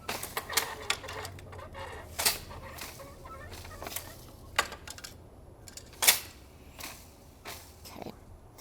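A weaver works a loom, beating in the weft after each pass over and under the floating selvage, producing irregular sharp wooden knocks and clacks spaced a second or so apart.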